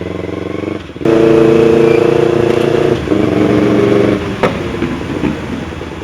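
A motorcycle fitted with a used 16-inch Akrapovic carbon exhaust runs loud and close, its engine throbbing steadily with a few short dips and uneven bursts in the note.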